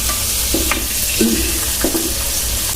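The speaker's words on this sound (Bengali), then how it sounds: "পেঁয়াজটা আমি বাদামি কালার করে ভেজে নিব" Onions frying until brown in a pan for chana dal sizzle with a steady bright hiss, broken by a few soft scrapes and clanks of a spoon stirring them.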